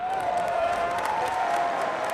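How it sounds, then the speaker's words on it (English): A crowd along the banks of the Nile in ancient Egypt cheers and claps in a continuous, even wash of noise, with a sustained tone running beneath the massed voices. "Crowds cheer along the riverbank, waving palm branches and colorful fabrics."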